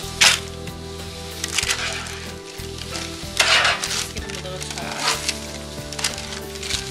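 Asparagus roasting in a pan, sizzling steadily with a bright crackling hiss and periodic louder bursts as spears are stirred and scraped around, close and continuous.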